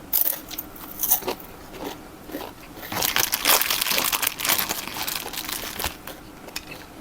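Crisp bites and crunchy chewing of fermented soft pork bone snack, eaten with sticky rice, close up with irregular cracking and crinkly bursts, busiest in the middle and easing off toward the end.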